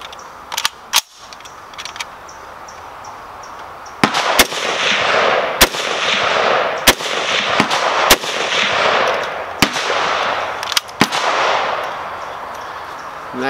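Russian SKS rifle firing at an outdoor range, sharp loud shots at an uneven pace, about eight in a row, with metallic clanks and a rolling echo after each.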